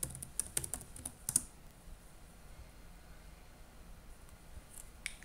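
Someone types a password on a computer keyboard: a quick cluster of faint, crisp key clicks at the start, then near silence with a couple of soft taps at the end.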